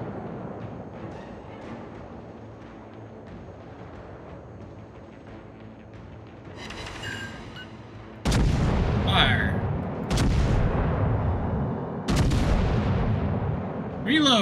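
Naval guns in a warship video game fire at an enemy battleship: low background rumble and faint voice, then three heavy booming salvos a couple of seconds apart, each loud with a long rolling decay.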